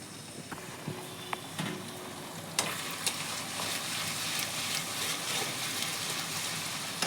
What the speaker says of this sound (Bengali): এখন সুন্দর করে মশলাটা কষিয়ে নেব